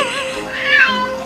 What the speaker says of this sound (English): we present a cat that sounds like a baby